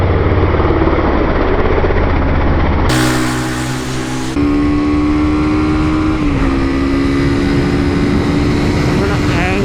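A 2019 Honda CB300R motorcycle engine screams at full throttle out of a corner, its pitch climbing through the gears over heavy wind rush, loud and close throughout.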